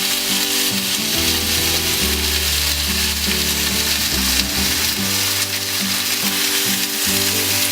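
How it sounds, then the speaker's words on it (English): Thin slices of pork belly sizzle and crackle steadily in a heated pan, a loud close frying hiss, while quiet background music plays underneath. "Then I'll grill the pork belly."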